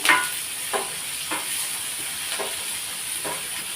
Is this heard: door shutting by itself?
no